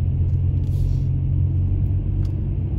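A car cruises along a road near Marcy, New York, heard from inside as a steady low engine and road rumble, even and continuous with no talking.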